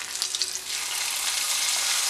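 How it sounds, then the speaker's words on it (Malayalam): Mustard seed tempering fried with shallots, curry leaves and dried red chillies sizzles loudly and steadily as it is poured into a Kerala-style snake gourd and prawn curry, a bright hiss that swells and holds. "ഇനി നമുക്ക് കറിയിലേക്ക് കടുക് വറുത്തിട്ട് കൊടുക്കാം"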